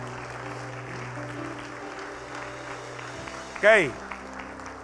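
A church congregation applauds during a Spanish-language worship service, a steady wash of clapping running under a speaker's voice, with a brief whistle near the end.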